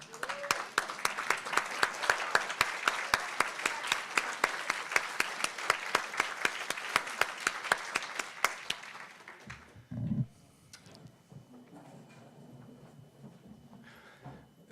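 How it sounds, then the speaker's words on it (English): A crowd at an awards celebration gives a standing ovation with dense, loud clapping, then the applause cuts off into quieter room noise and a brief thump. "everybody please stand and give a standing round of applause for"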